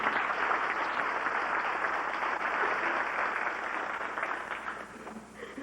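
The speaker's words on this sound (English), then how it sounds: "Let's give these people a round of applause." Applause at a 1989 county FFA banquet, a room full of guests clapping steadily for several seconds at moderate volume, slowly thinning toward the end.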